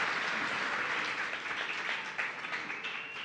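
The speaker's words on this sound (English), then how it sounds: "Let's give her a warm round of applause for coming up here." A live-show audience claps in warm applause, a dense patter of many hands, fairly faint and distant, holding steady for a few seconds.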